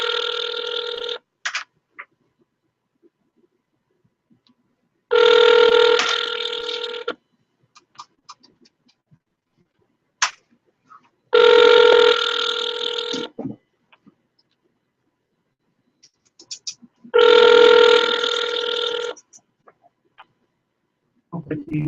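Outgoing phone call to a construction worker ringing through a handset: three long ring bursts with silent gaps between them, fairly loud and clear, with faint voices briefly audible in the pauses.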